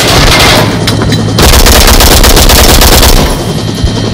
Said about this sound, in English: I shoot.